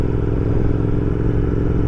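A Royal Enfield Continental GT 650 cafe racer with a bolt-on body kit rides at about 3000 rpm, giving a loud, steady engine drone with a continuous low rumble and no pauses.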